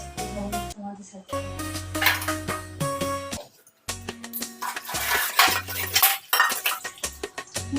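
Dishes and metal utensils clatter and clink in a home kitchen sink during cleanup after cooking, a busy run of close, uneven knocks and scrapes with short pauses and someone talking over it.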